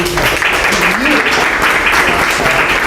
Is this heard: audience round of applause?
yes